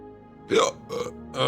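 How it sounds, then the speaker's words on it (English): Three short throaty hiccup bursts from a person, close and loud, spaced unevenly over a second and a half with no talk. "Fucking hiccups."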